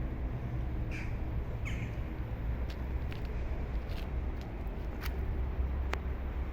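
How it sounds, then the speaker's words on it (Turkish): Birds calling outdoors near a residential complex with greenery, a few short chirps and squawks at moderate distance over a steady low background rumble. "Gürültü yok, patırtı yok, kuş sesi."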